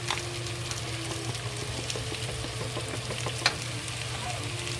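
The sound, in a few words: squash and pork frying in a pan on high heat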